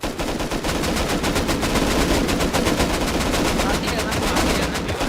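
Dense, sustained gunfire from the video game Rust during a raid, rapid automatic bursts layered into a loud, continuous rattle lasting the whole stretch.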